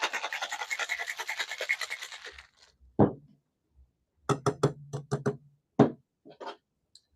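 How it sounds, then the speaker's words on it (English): A cocktail shaker packed with ice shaken hard for a gin drink, a rapid rattling burst of ice for about two seconds, then a few separate clinks and knocks as it is opened and set down. "Throw all that in the shaker. Get it nice and cold."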